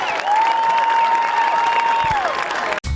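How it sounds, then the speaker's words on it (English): Crowd applause for a symphonic band at a high school football game, a steady broadband wash of clapping with a sustained tone running over it, ending abruptly. "Oh, a big round of applause."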